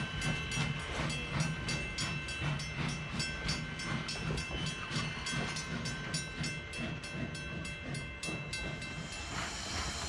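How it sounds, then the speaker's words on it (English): A Virginia & Truckee steam locomotive runs light toward the shops, with a rhythmic clanking chuff and hiss, steady and fairly close, rising busier toward the end. "the steam locomotive runs light to the V&T shops for servicing"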